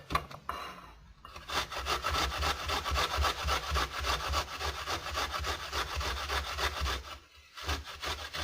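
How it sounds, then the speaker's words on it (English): Ginger root grated by hand on a cheap grater, a steady run of close, scratchy rasping strokes with short pauses near the start and near the end. "Take yourself a grater, or a crappy one at that, and grate the ginger."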